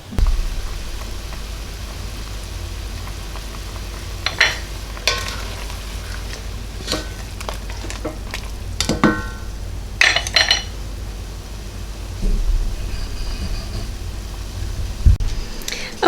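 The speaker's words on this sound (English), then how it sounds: "a potato masher as my sauce is cooking down to break up my peaches a little bit." Spiced peach rum sauce simmering in a pot while a potato masher breaks up the peaches, giving scattered soft knocks and squelches over a low steady bubbling hiss.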